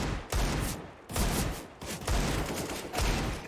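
Bursts of rapid gunfire in Counter-Strike: Global Offensive during a professional match on the Nuke map, four loud close volleys in quick succession with brief gaps between them.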